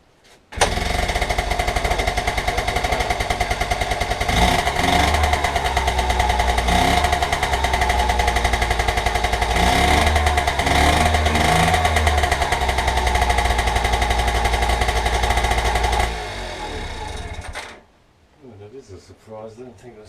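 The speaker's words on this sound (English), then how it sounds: "I think we'll pull the choke out slightly, switch the ignition on. Just open the throttle." A Honda Express NC50 moped engine catches and runs loud and close, a buzzing two-stroke drone that rises and falls with throttle for about fifteen seconds before cutting out abruptly.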